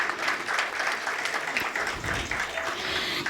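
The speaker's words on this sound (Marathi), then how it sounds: "एकदा जोरदार टाळ्या झाल्या पाहिजेत." An audience at a book launch claps steadily and fairly loudly, a dense, even patter of many hands held for several seconds without a break.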